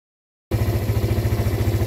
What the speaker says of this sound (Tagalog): Umaandar pa rin yung motor.